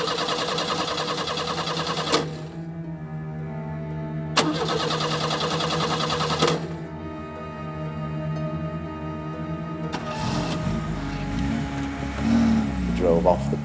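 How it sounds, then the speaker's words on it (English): A car engine is cranked in several separate attempts with pauses between them before it finally catches and runs. The cranking sounds close and steady, with a low droning tone underneath. "We went to start the car, and at first the car wouldn't start"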